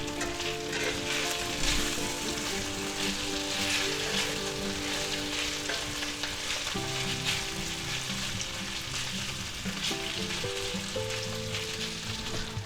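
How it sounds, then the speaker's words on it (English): Thin slices of beef fry in a pan for a spicy beef and broccoli stir fry, giving a steady close sizzle and crackle that runs throughout at a moderate level. "it won't take long for that beef to cook because it's really thin"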